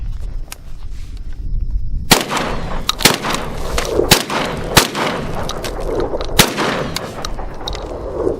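A Citadel BOSSHOG Warthog 12 gauge semiauto shotgun fires buckshot outdoors in a string of about six loud, sharp blasts spaced roughly a second apart, each with a booming echo over steady background noise.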